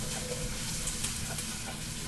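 Onion and garlic sizzle steadily in a hot pan for Italian wedding soup, a close, continuous crackling hiss with no pauses.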